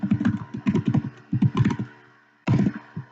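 Keys are typed in quick bursts on a computer keyboard during a programming lecture, with clicky rhythmic clusters separated by brief pauses, close and clear with no talking.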